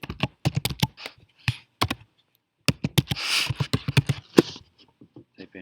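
Someone types on a computer keyboard close by, with quick bursts of crisp key clicks separated by short pauses and one brief swishing sound in the middle.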